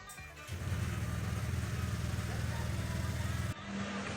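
A motorcycle engine starts via its electric starter button and settles into a steady, close idle, then drops in level near the end with a brief change in tone.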